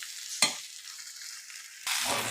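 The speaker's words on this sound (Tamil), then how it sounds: "பாருங்கள், நல்லா வதங்கி சுருண்டு வந்துட்டு இருக்குது." Chopped ivy gourd sautés with salt in a pan, giving a steady close sizzle broken by a sharp scrape of stirring, then a louder burst of frying as the pieces are turned.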